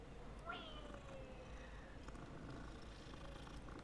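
A cat meowing in Hogwarts Legacy, two rising meows close together near the start and then a fainter trailing call, over a quiet steady game ambience.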